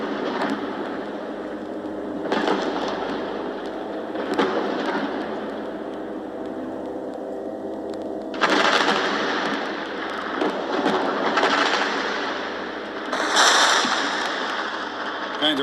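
Gunfire recorded in wartime Gaza, a dense rumbling wash of shots and blasts with several louder bursts standing out, continuous and fairly loud throughout with no talk.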